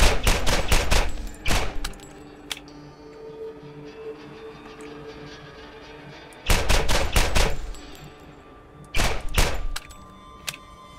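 Rapid bursts of gunfire in the Borderlands shooter, loud clustered volleys at the start, middle and end, with a low mechanical hum and quieter game ambience filling the gaps between.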